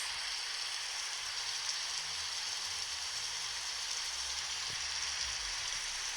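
Rain falls in the video game Grow a Garden, a steady, uniform hiss that holds evenly throughout with no other sounds.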